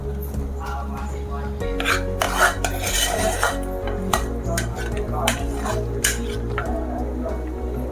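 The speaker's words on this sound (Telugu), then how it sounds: "మంచిగా కలుపుకుందాము." A spoon stirs vegetable sambar in a metal pot, with repeated clinks and scrapes against the pot over a steady low hum.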